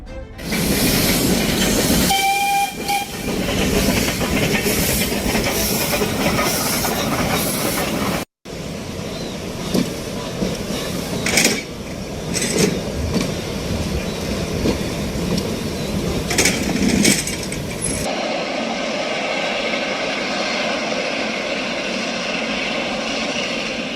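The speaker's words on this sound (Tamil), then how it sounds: "உள்ளூர் மக்களால் பொம்மை ரயில் என்று அழைக்கப்படும் இந்த ரயில் தட தட என்ற தாளத்துடன்" A meter-gauge mountain toy train rumbles steadily along the rails at close range, with clattering and a brief cut midway, then turns into a duller, quieter rolling hum.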